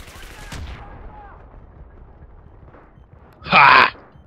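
A single loud, sharp sniper shot in a video game rings out near the end, preceded by a fainter crack and low background game noise.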